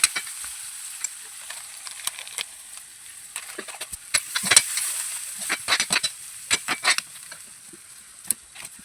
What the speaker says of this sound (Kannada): ಉಳ್ಳಾಗಡ್ಡಿ ಮೆಣಸಿನ್ಕಾಯಿ ಜೀರಿಗೆ ಎಲ್ಲ ಹಾಕಿ ಫ್ರೈ ಮಾಡತ್ತೇನೆ